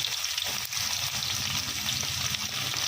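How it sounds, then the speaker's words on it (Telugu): Onions, green chillies and cumin fry in hot oil for a potato fry, giving a steady, dense close sizzle that continues without a break. "జీలకర్ర వేగిన తర్వాత ఆనియన్స్, పచ్చిమిర్చి కూడా వేసేసుకుందాం"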